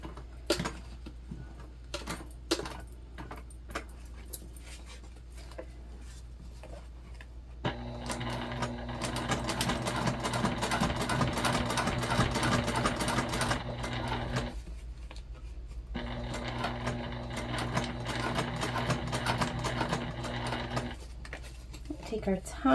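A hand-cranked sewing machine stitches through a thick backpack gusset piece, starting with a few sparse clicks and then running in a steady rhythmic chatter for several seconds, pausing briefly, then resuming.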